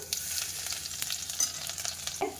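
Ajwain seeds and chopped garlic frying in oil over a low flame, a soft, quiet sizzle with scattered crackles and a few stirring clicks, close up and with no talk.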